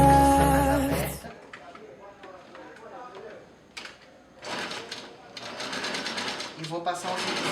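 A household sewing machine runs a zigzag stitch along fabric edges for a pencil skirt, mimicking an overlock, in rapid chattering bursts after a loud opening chord of background music.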